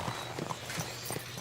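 A horse's hooves clip-clop in the medieval game Kingdom Come: Deliverance II, a faint, quick, even rhythm of steps heard alone.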